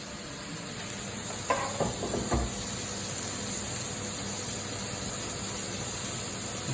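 Gas stove burner under a pot of curry, a steady hiss and faint sizzle running throughout, with a few brief clanks of the pot being set down and adjusted near the start.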